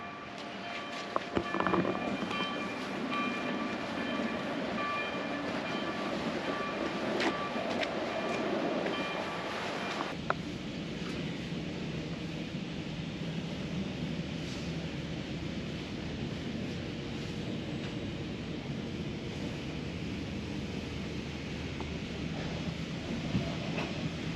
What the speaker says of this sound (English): we're gonna go get the shuttle train and take that all the way in